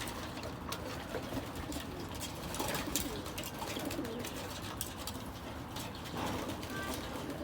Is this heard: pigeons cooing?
yes